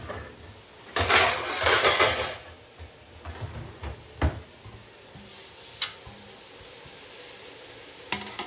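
A lid settles onto a cooking pot of vegetable basmati rice: a burst of metallic scraping and clattering near the start, then scattered single knocks and clinks spread across the rest, close and sharp.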